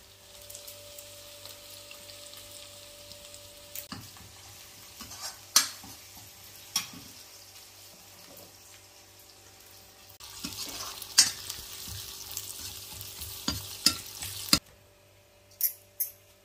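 Onions fry and sizzle in a pan over a steady low hiss, with a stirring spoon scraping and clinking in sharp bursts, heavier toward the end, in a Himachal village kitchen.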